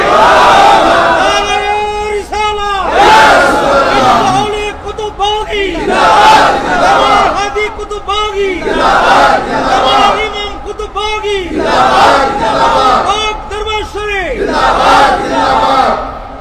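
At a large religious jalsa, a leader's call is answered by a massed crowd shouting takbir, loud rhythmic chanted exchanges repeating across the whole stretch, near and dense with many voices.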